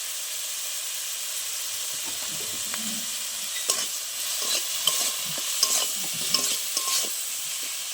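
Tomato with salt and turmeric frying in a pan for a tilapia fish curry, a steady close hiss of oil with scattered scraping stirs and small pops growing busier toward the end.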